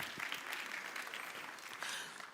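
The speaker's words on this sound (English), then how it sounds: "Give yourself one more round of applause." A church congregation claps in steady, even applause throughout, a dense wash of many hands that stays fairly soft and distant with no voices on top.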